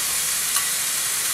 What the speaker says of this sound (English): Give this a good stir, and it's not going to take long for these to warm through.